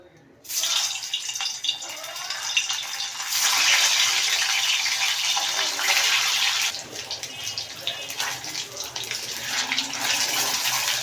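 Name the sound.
chicken balls frying in hot oil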